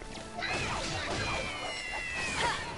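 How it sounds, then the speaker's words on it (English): Cat meows from enemy cats in the Dragon Quest Heroes 2 video game, several tonal cries rising and falling over busy battle sounds and clatter, fairly close and moderately loud. "I feel really bad for killing these cute cats."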